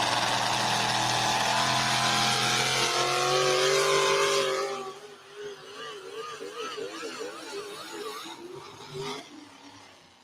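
A Chevrolet pulling truck's engine roars in a loud, sustained, rising rev at an outlaw truck pull, then drops away as an announcer's voice comes through over the fading motor.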